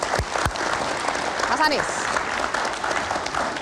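Audience applause at a political talk event, steady clapping and crowd noise running throughout, with a voice speaking briefly over it.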